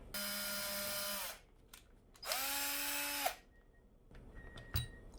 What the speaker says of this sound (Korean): 몸 전체 전체 부의 3분의 1 지점에 구멍을 뚫어주면 됩니다